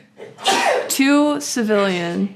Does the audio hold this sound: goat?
no